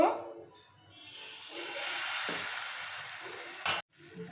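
Kheerer patisapta batter poured onto a hot pan and spread, giving a steady close sizzle that builds after a brief quiet start and holds before cutting off near the end.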